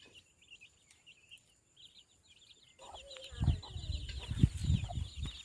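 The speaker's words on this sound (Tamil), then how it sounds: "அதோ அங்கே ஒரு கோழி இருக்குது" Several chickens cluck in a village lane, sparse and faint at first, then louder, closer clucking with busy activity in the second half.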